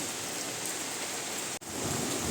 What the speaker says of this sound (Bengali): দারুণ বৃষ্টি হচ্ছে এদিকে একদম ছিটেছে যেন ঘরগুলো ভিজে যাচ্ছে